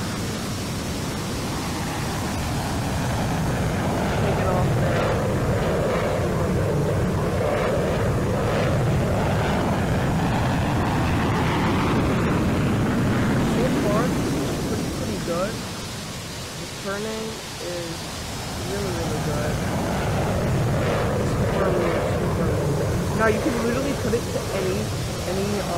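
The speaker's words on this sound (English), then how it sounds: "we're gonna get in this F-14 because it's the normal one" F-14 Tomcat jet in Roblox flying steadily, a broad roaring engine and wind rush that swells and eases over the length, with a brief dip midway, while a voice talks faintly under it.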